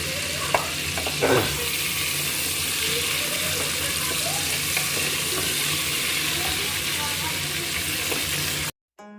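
Whole spices fried and stirred in oil in a pan for yakhni pulao, a steady close sizzle with occasional scraping clatters of the spoon, continuous until it cuts off near the end.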